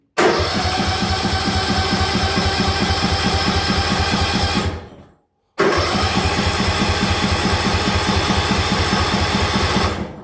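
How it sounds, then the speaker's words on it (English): A car engine cranks loudly and close as the key is turned with the emergency brake held, a fast rhythmic churning that runs for several seconds, stops briefly, then cranks again without catching. "I'm holding the emergency brake, turn the key."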